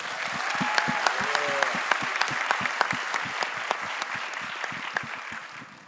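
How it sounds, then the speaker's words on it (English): Audience applause at an evening gathering, a steady spread of many hands clapping with sharp individual claps standing out, sustained across the whole stretch at moderate level. "Can we have another round of applause for"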